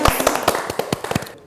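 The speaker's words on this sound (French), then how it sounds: "Bravo, on peut l'applaudir." Brief burst of hand clapping for a contestant after a tasting challenge, a quick run of sharp close claps lasting about a second and a half before cutting off.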